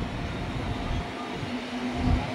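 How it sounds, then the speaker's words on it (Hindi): The 19812 Etawah–Kota Express pulls out of a small station, a steady low rumble of rolling rail cars heard from aboard, fairly loud with no talk. "निकल गई हमारी ट्रेन"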